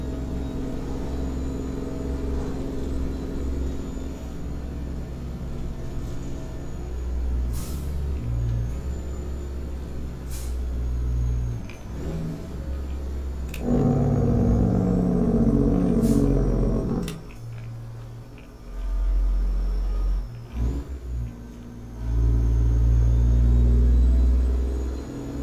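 A brand-new truck in American Truck Simulator rumbles and roars steadily, its heavy low engine drone swelling as it accelerates, with air-brake hisses and short surges breaking through.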